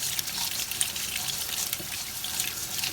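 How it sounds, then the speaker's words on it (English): Four potatoes are washed under a running kitchen tap: a constant close rush of water into the sink, with faint splashes and drips as the potatoes are rubbed. "So I've got I've got 4 potatoes here that I am washing."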